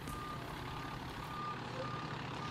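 A dump truck reverses at a cold-night water main repair site, its steady backup beeps repeating at an even pace over a low engine rumble and distant work noise.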